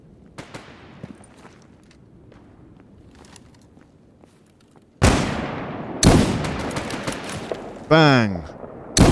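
Gunfire in the video game S.T.A.L.K.E.R. Gamma: several seconds of quiet scattered sounds, then loud, sharp bursts of shots that crack in close and echo, with a whooshing trail at the end.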